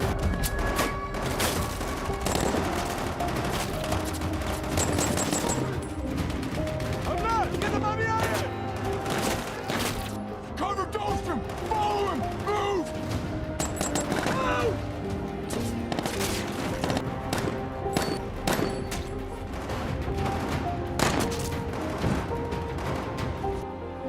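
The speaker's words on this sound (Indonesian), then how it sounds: "mereka mulai menembaki pasukan Dostum dan tim Nelson yang telah mendekat untuk memastikan Taliban" Heavy gunfire from Taliban fighters in a war battle scene, with sustained bursts of rifle and machine-gun fire, scattered explosions and crashes, dense and loud throughout, with shouting voices mixed in.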